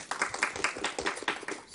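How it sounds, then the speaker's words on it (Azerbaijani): A small audience at a school intellectual quiz competition claps in a quick, steady rhythm for the students from School No. 211, a modest, fairly faint round of applause. "Alqışlayaq."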